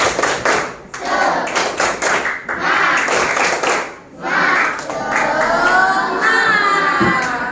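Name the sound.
children's class clapping 'tepuk semangat' clap chant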